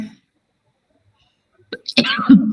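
During a spiritist lecture, a sharp close cough or sneeze-like burst breaks a near-silent pause, followed by throat noise running into the start of the lecturer's speech.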